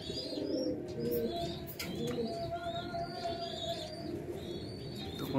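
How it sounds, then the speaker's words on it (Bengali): Racer pigeons, a young male and female pair, coo softly and repeatedly in a steady low murmur, with faint higher chirps from other birds nearby and no talk. "আর এই পাশে একটা ফিমেল পায়রা আছে।"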